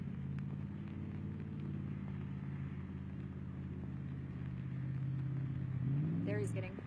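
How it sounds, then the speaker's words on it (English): An airboat engine idling and then revving as it fires up, a steady low droning hum that swells near the end, partly under a nearby voice. "If you can hear that, that is the airboat firing up"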